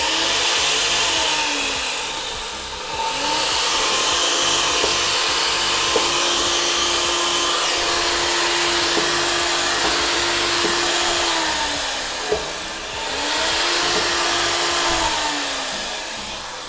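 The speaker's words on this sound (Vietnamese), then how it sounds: "Đơn giản, gọn gàng, cưa trượt, trượt êm ái nhẹ nhàng nha anh em" A steady, loud motor whine from a Makita sliding miter saw running continuously on 100V, dipping briefly twice as it slows and spins back up, with no talking.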